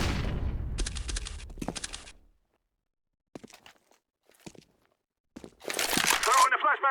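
Counter-Strike flashbang thrown during a professional esports match, with a burst of clattering bangs and rustle at the start, scattered faint clicks through a lull, then a loud bright blast near the end.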